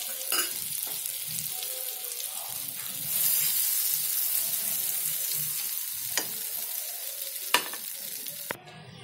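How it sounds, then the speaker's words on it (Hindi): Crushed garlic cooking in melted butter in a pan, a continuous close sizzle with a few sharp clicks and utensil taps toward the end. "ये देखिए मैं गार्लिक के साथ बटर को पका रही"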